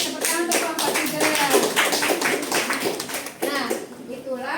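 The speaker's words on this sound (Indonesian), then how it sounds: "Tepuk tangan untuk kelompok 3." Classmates clap for a student group after its presentation in a school lesson, scattered hand claps mixed with children's voices and chatter, steady and close throughout.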